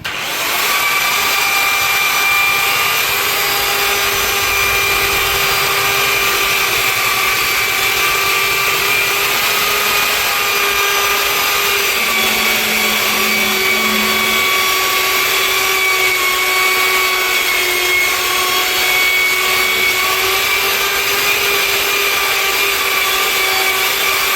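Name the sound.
epoxy floor polishing machine with spinning pad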